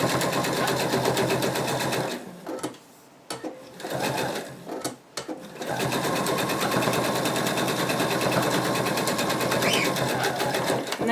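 A sewing machine runs in long, loud, fast-chattering stretches while sewing around betta fish plush pieces, with a brief stop-and-start pause midway.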